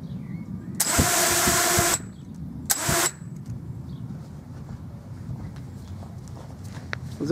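Dalprop Fold F5 folding propellers on an FPV drone spin up at motor startup, giving two loud, whining bursts, about a second then half a second long, over quiet outdoor background.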